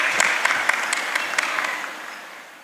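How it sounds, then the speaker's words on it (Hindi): An audience at a Hindi poetry gathering applauds to welcome a young poet on stage, a burst of clapping with sharp individual claps on top that fades out over a couple of seconds. "आप एक बार जोरदार तालियों के साथ साक्षी तिवारी का स्वागत करें"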